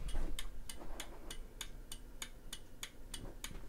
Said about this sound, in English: there's these clicking relays in here